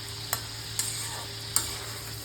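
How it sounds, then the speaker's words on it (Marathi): Garlic with green chillies and coriander frying in oil in a kadai, producing a soft steady sizzle broken by three sharp spoon clinks or scrapes against the pan. "तेल टाकलं कढईमध्ये आणि हे फ्राय करून घेतलं. लसूण चांगलं फ्राय करायचं"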